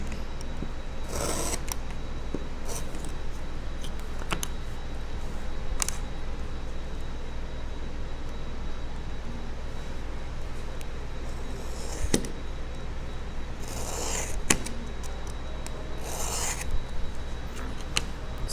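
A knife slices veg tan tooling leather along a straight edge, making a steady, close scraping and rasping that runs the whole length, with sharper strokes at intervals and no talking.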